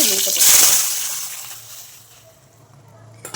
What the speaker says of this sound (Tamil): புளி தண்ணி ஊற்ற போகிறேன்.